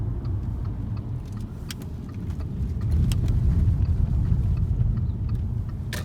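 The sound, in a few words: car passing by on the road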